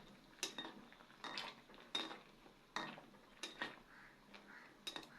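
A utensil clinks against a metal pan while stirring langcha sweets in boiling sugar syrup, with about eight sharp scraping knocks spaced irregularly over five seconds, faint and close.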